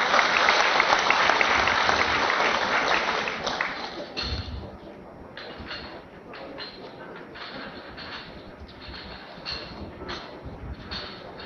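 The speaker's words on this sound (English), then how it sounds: "A round of applause." Applause from an audience at an oath-taking ceremony for real estate practitioners in Cebu, dense clapping at first that thins out and fades to a patter of scattered claps over a few seconds.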